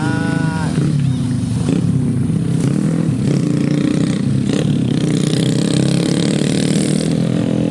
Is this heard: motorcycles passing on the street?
yes